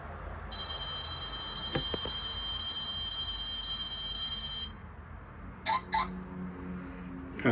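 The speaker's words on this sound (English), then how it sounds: "Kind of an alarm sound." A car's alarm-style warning tone sounds when a door is opened, a steady high electronic buzz that holds for about four seconds and then stops, followed by a few brief clicks and knocks.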